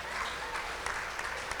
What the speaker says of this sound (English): Can I get a big round of applause for U.S.